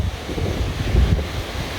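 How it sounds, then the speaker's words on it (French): Strong wind at the seaside roars across the microphone in continuous heavy gusts, with a broad, rumbling buffeting that swells briefly near the middle, loud and close, with no voices. "Mais il y a un vent de malade."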